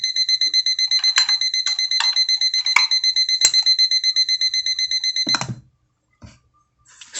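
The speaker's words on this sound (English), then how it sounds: "Okay, so let's snooze." A La Crosse wireless charging alarm clock sounds its alarm with rapid, loud, steady electronic beeping in regular pulses close by, then stops abruptly when snoozed, followed by a few soft handling clicks.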